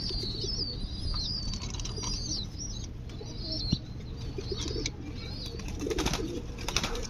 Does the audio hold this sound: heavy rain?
no